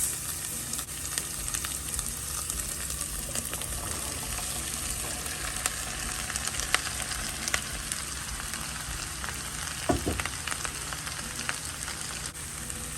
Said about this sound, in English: I'm just going to add my veggie chunks into the pot and allow this to saute for another 5 minutes